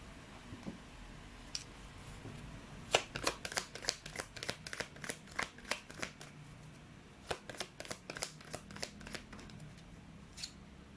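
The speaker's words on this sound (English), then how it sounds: "You saw me shuffle as always." Cards are shuffled by hand in quick, rapid flutters, a close series of soft snapping clicks over a few seconds, then a pause and another round.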